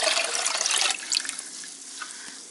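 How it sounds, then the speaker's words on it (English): Lukewarm water pours into an apple wine mixture of organic Nova Scotia apples and sugar, a close, steady splashing gush that eases to a lighter trickle after about a second. "So we're just going to top it in with some lukewarm water, and that'll help dissolve the sugar as well."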